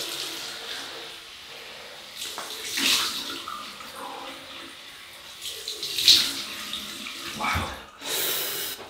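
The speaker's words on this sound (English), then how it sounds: "Cold water rinse." Cold tap water runs steadily for a rinse during a wet shave with a 1930s GEM Micromatic Gold Bullet single-edge razor, a soft continuous splashing hiss that swells and dips with brief interruptions, with no talking.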